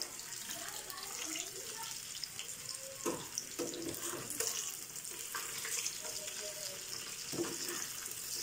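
Fish frying in a pan for a Kerala-style fish molee, a steady broad hiss of sizzling oil running throughout with occasional soft clatter, faint speech nearby.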